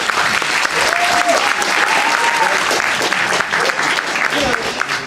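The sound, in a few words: audience applause at a university lecture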